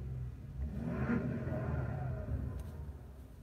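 A vehicle engine revs nearby behind the listener, a low rumbling rise and fall of moderate loudness with no talking over it.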